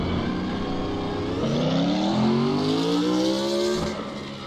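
A Nismo GTR race car in the Assetto Corsa simulation revs hard, its engine note sweeping upward in rising harmonic tones through several pulls, loud and close with a rough exhaust edge and no talking over it.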